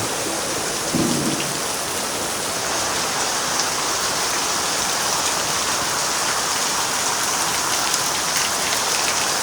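Heavy rain pours steadily and densely throughout, a loud unbroken roar with no voices.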